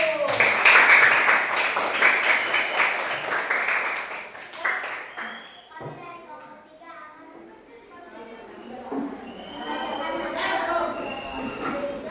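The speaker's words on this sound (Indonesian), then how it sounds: "Oke, tepuk tangan untuk kelompok 1" A class of sixth-grade pupils applauds a student group with loud, dense clapping for about five seconds. The clapping then fades into children's chatter and scattered voices.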